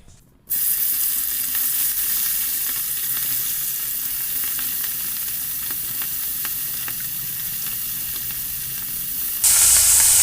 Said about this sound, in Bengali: তেলটা গরম হয়ে গেছে এবারে আমি মাছগুলো অল্প অল্প করে তেলে দিয়ে দেবো